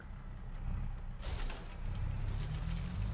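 A tractor with a front-mounted bale wrapper runs in Farming Simulator 22, giving a steady low engine drone with a mechanical whirr that rises partway through.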